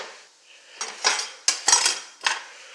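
Dishes and cutlery clatter in a series of sharp, close bursts as pork chops come out of the oven in a home kitchen, with quiet pauses between the knocks and scrapes.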